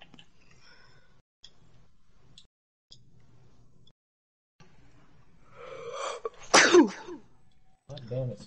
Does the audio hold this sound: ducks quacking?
no